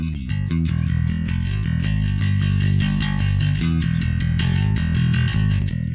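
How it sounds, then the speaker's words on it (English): Distorted electric bass processed through the iZotope Neutron 4 Elements plugin plays a gritty, saturated riff with sustained low notes and a buzzing, punchy edge, steady and loud throughout. "a bit more distortion and saturation and punch"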